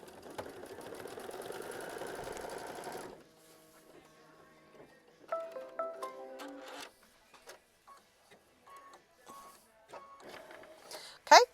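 A machine stitches fabric for a quilt block in a close, rapid mechanical whir for about three seconds, then stops; scattered handling clicks and rustles follow.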